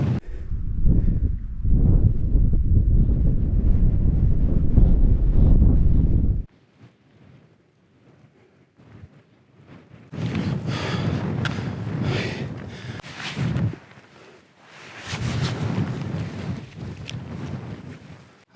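Strong gusty wind while camping outdoors, heavy buffeting roar against the microphone for several seconds, a brief lull, then further loud blustery gusts with rustling.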